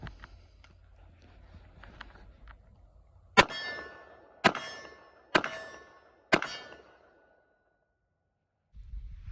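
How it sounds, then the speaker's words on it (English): Four handgun shots fired down range at an outdoor range, each a sharp crack with a short ringing tail, spaced roughly a second apart after some faint handling sounds. "we're going to take a few shots down range"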